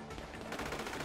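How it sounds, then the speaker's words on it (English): Rapid automatic gunfire fired through a car window in GTA V, a dense, loud burst of repeated shots filling the short moment with no talk. "I'm trying to shoot through the window"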